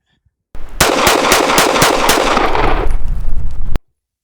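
Rapid pistol fire from a Stealth Arms Platypus at close range: a quick string of six loud sharp shots in even succession, followed by a brief clatter as the burst ends.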